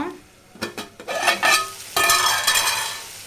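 Ridge gourd curry being stirred in a pan, a spoon scraping and clinking against the metal over a steady sizzle, with a few separate strokes first and then continuous frying close up.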